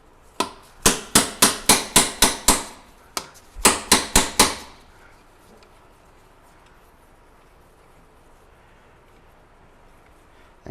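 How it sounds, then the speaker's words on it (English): A slide hammer works on a 2003 Ford F-150 Triton 4WD with a 5.4L engine, striking in a rapid run of about eight sharp metallic hits, then a brief pause and four more, before the clip goes quiet. "Our beautiful slide hammer."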